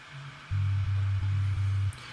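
A deep sub bass patch from a Serum pack, cut above 100 Hz, playing a few long low sustained notes in a row with brief gaps, heavy and alone.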